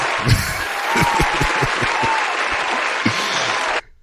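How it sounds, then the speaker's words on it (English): Clapping from a live audience at a comedy podcast about comics and cosplay, a few seconds of brisk applause with a short laugh or shout at the start, ending abruptly in silence. "Oh, I get a clap for that one"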